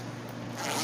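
Zipper being pulled on a blue leather-feel coloring accessories case with three zippers and a carrying handle, a short continuous rasp growing slightly louder toward the end, close up with no talking.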